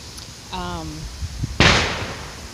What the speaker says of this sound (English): Sounds like fireworks.